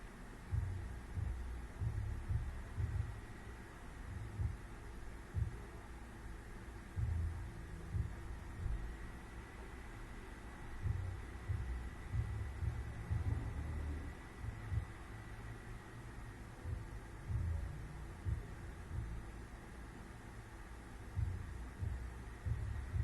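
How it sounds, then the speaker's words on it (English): Loud cooling fan in a warm PC, a continuous low droning hum with uneven throbbing in the bass, steady throughout and close by. "Oh my gosh, that fan is so loud"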